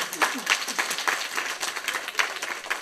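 A small audience claps for a few seconds at a school donation event, scattered hands patting irregularly at moderate volume.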